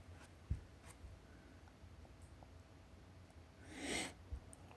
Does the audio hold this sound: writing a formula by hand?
yes